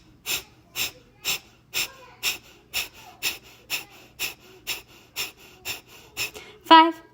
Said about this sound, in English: That breath of fire should start getting us warm.